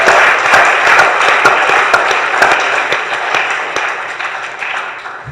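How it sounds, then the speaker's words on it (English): An audience at a Hawaii mastermind retreat gives a round of applause, with dense, loud clapping and sharp individual claps standing out, slowly fading toward the end. "let's give them a round of applause for their vision"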